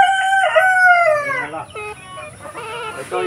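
Native chickens on a farm, a rooster crowing loudly up close with hens clucking around it.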